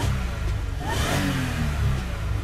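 Supercharged 2015 Toyota Sienna minivan V6 revving hard under boost, a dense, loud, continuous engine roar with a rising pitch and no voices over it.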